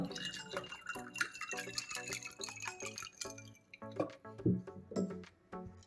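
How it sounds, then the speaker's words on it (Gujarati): Water splashes and drips into a glass in short bursts as mint-lemon sharbat is made, with music playing in the background. "હું અત્યારે પાણી એડ કરું છું શરબત બનાવું છું"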